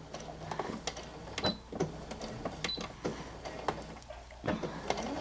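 A sewing machine stitching a line on fabric, a soft, uneven run of mechanical clicks and thumps, close and fairly quiet with no voice over it.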